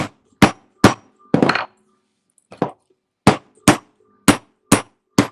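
Sharp hammer blows strike soft, unannealed copper scrap pieces taped down on a jewellery-making bench, eight distinct knocks in an uneven rhythm with one longer scraping burst, close and loud with no talking.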